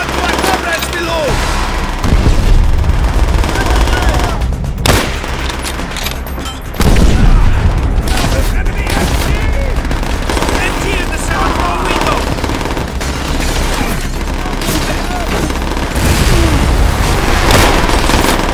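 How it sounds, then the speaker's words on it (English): Loud, sustained gunfire in Call of Duty: World at War, with rapid machine-gun bursts and booming explosions that carry on almost without pause, mixed with game sound. "Give covering fire to our comrades below!"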